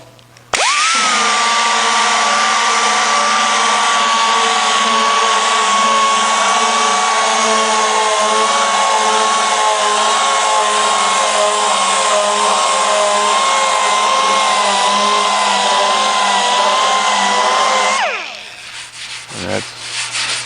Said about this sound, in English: And now hit it with the sander again.